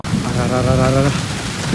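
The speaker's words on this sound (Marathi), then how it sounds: "चल चल बाबा पाऊस येतोय." Unseasonal rain drums steadily on a car parking shed in a close, dense wash of noise, with a voice speaking briefly over it.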